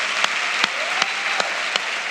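Applause from a church congregation praising the Lord, a dense wash of clapping punctuated by a few sharper, louder claps at roughly regular intervals over about two seconds.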